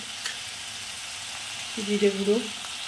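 Turmeric, cumin and coriander powder frying in masala for a mustard-poppy katla fish curry, a soft steady sizzle with a brief tonal hum near the end.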